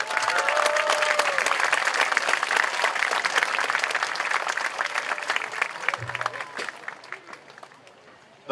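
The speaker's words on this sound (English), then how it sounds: "Please give these guests a round of applause." Audience at the 2023 Kailua 66th high school commencement ceremony breaking into dense, sustained applause that holds steady for several seconds before thinning and fading out near the end.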